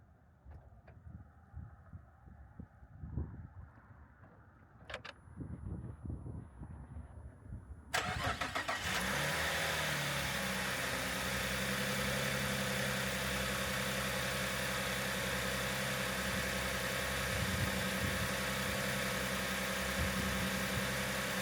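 Faint clicks and shuffling, then a Cadillac CTS engine, just after an oil and filter change, cranks and catches, settling into a steady, loud, continuous idle that hums on for the rest.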